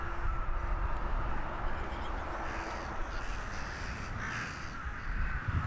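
Crows cawing over rice paddy banks, harsh repeated calls amid a dense, continuous wash of outdoor noise.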